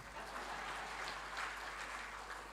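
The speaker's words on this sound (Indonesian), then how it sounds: "Tepuk tangan untuk saya ya" An audience at a formal government farewell-and-welcome ceremony applauds in a continuous, even wash of clapping, distant and soft in a large hall, with no voices over it.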